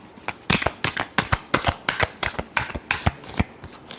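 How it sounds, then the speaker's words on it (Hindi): A deck of tarot cards is shuffled up close, the riffles coming as a quick, even series of crisp flutters and snaps, with no one talking. "Last shuffle."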